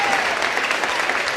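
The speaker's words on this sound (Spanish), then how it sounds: "Este aplauso también. ¡Eso! El aplauso." Brief applause from an audience at a talk on artificial intelligence for teachers, a short, steady wash of many hands clapping at even loudness.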